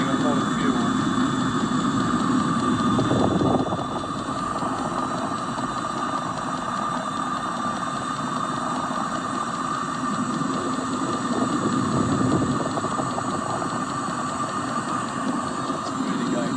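A Webasto fuel-burning heater runs hard, pumping a lot of fuel, with a steady loud roaring hum that holds unchanged throughout, heard close and alone.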